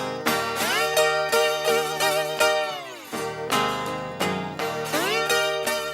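Guitar played slide-style with a piece of metal, gliding pitch bends and sustained ringing notes in repeated phrases, close and loud at a concert showcase.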